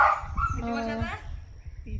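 A dog barks close by in a rural spot where a weak cobra has been caught, a short yelping bark mixed with someone talking over it.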